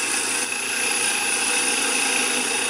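Bowl gouge facing off the front of a spinning wood blank on a lathe for a birdhouse ornament, a steady, loud, continuous broadband hiss and scraping rush of cutting with no break and no talk.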